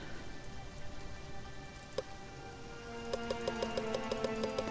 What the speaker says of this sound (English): because it's raining right now